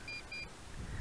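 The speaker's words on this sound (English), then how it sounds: "You can hear the beeps." Two short electronic beeps from an MJX Bugs 5W drone receiver as it connects, thin and high-pitched over a steady outdoor wind and rumble background.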